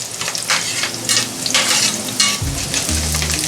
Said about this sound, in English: I keep stirring this because it cooks equally all the onion pieces